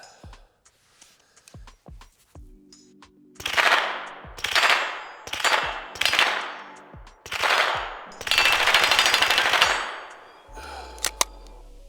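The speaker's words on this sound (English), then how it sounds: "You'll hear rate of fire changes in this because it's sluggish. It's a heavy bolt carrier." A MAC-11 SWD M11/9 submachine gun fires 115-grain rounds in several loud, close bursts with an uneven, sluggish rate of fire, followed by a longer burst. Metallic clicks and clanks come before the shooting.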